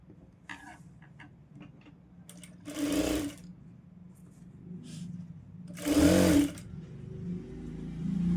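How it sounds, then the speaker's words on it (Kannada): Sewing machine stitching fabric for a small child's blouse, heard in two short loud bursts of rapid stitching separated by quieter handling sounds. "ಈ ಒಂದು ಬಟ್ಟೆನ ಇದ್ರ ಮೇಲಿಟ್ಟು ಸ್ಟಿಚ್ ಮಾಡ್ಕೋಬೇಕು"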